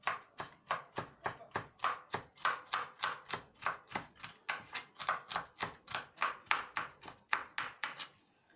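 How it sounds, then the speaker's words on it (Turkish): Rapid, steady knife chops on a cutting board, cutting peppers into small pieces, dozens of crisp evenly spaced strikes in a quick rhythm, close and clear with no talking. "Şöyle biberlerimi de küçük küçük doğrayacağım."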